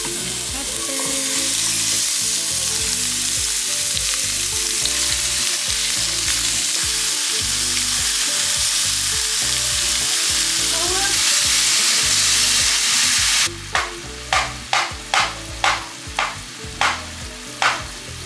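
Peppers frying in avocado oil in a pan for shrimp fajitas, a loud, steady close sizzle with stirring clatter, ending in a run of sharp rhythmic scrapes.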